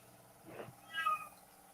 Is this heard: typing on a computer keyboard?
no